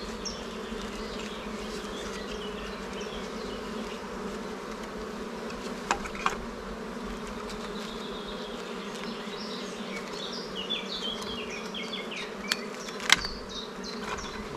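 A honeybee colony hums around hive frames with a dense, continuous buzz close by, and a few faint clicks and knocks from handling the frames.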